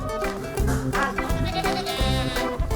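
Goats bleating over busy music with dense harmonic layers, the animal calls close and mixed into a loud, continuous soundtrack from an Indonesian children's program.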